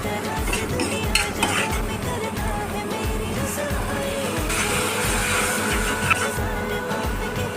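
Onion and spice paste sautéing in a pan, a loud close steady sizzle under repeated rhythmic stirring scrapes of a spoon against the pan.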